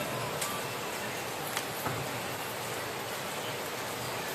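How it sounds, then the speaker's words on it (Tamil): Steady rain pours down outdoors, a dense continuous hiss with a few louder drops pattering close by. "மழை பெய்யுதே"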